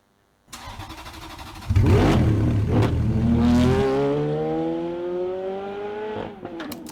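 A car engine sound effect in an edit: it catches after a short start, surges into a loud rev, then holds a falling, whining tone before dropping away, with a few sharp clicks at the end. No voices.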